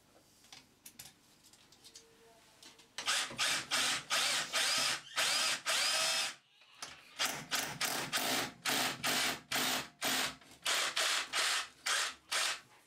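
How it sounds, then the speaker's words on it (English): A power drill drilling into a wall whirs in repeated short bursts, loud and close, stopping and restarting in a choppy rhythm after a quiet start. "we'll just mark that ready for drilling"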